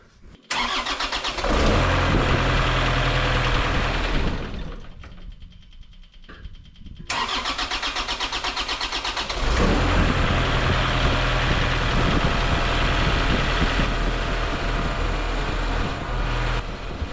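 The diesel engine of a Takeuchi TL6 tracked skid steer cranks, briefly drops away, then catches and settles into a loud, steady idle close by, with no voices.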